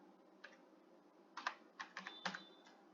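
A computer keyboard is typed on briefly in a quiet room as a 2FA code is entered: a few soft isolated keystrokes, then a quicker cluster of clicks, close and fairly faint.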